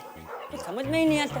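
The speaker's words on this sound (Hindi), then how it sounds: "ऊपर से कुत्ते भी भौंक रहे हैं।" Dogs barking at night, a few short muffled barks and yips close by, mixed with someone speaking over them.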